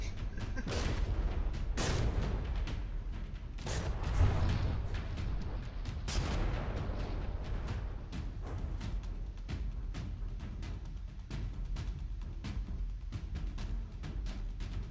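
Warship guns firing shells in the From the Depths naval combat game, a dense barrage of booming shots and impacts rumbling almost continuously, some sharp reports standing out amid the din.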